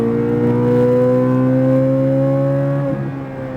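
A Chevrolet Corvette Z06 engine roars loud and close under full throttle, its pitch climbing steadily, then a brief shift or lift near the end before it pulls on again.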